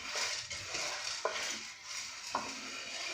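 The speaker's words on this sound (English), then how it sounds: "So you put them in the pan as they are dry and keep turning them as they roast." Dry sunflower and flax seeds are stirred as they roast in a hot pan, giving a steady scraping, rustling sound with a few sharp utensil taps against the pan, close and continuous.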